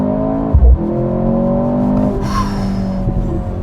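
A 2023 Mercedes-Benz C43 AMG accelerates hard on launch control, the engine droning loudly from inside the cabin with rising tones and a brief thump as it pulls away.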